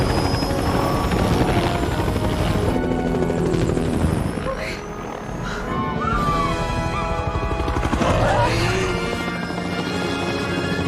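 A helicopter from a Jurassic World movie scene flies with a loud, dense rotor and engine roar under a mix of film sound and crashes. The sound dips briefly midway, then swells again.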